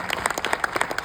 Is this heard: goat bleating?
no